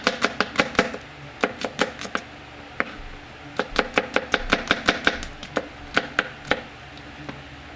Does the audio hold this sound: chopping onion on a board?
yes